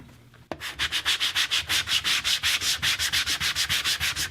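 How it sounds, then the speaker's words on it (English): Hand sanding old rubber off a pool table cushion, a close, steady run of rhythmic back-and-forth scrubbing strokes, roughly five per second, starting abruptly and continuing evenly with no talking. "So this isn't going too badly with the hand sanding."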